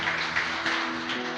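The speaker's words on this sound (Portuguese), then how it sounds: "Quem pode aplaudir o Senhor nosso Deus bem forte?" A church congregation applauding, a steady wash of many hands clapping at moderate loudness, heard from a distance across the hall without any speech.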